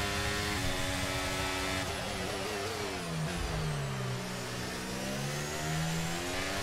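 F1 car engines roaring off the start at the Hungaroring in F1 23, a loud high-pitched whine climbing and dropping through gear changes, with other cars' engines blending in and no talk.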